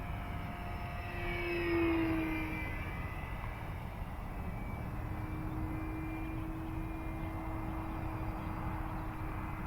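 An FMS Ranger radio-controlled model airplane flies with a steady, even motor drone and airflow hiss that holds at a constant moderate level, with no talking.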